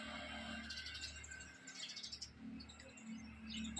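Sparrows chirp in quick bright bursts over a steady low hum at a village home with a nest, with repeated twittering calls coming and going at moderate distance.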